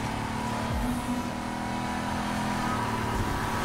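A Buick racing in the video game Need for Speed Heat, its engine holding a steady loud drone with shifting pitch as it drifts through corners, mixed with road and tyre noise.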